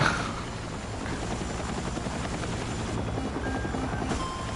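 A helicopter in Battlefield 6 makes a continuous loud rotor drone and engine whine at steady level throughout, with gunfire and battle noise mixed in beneath.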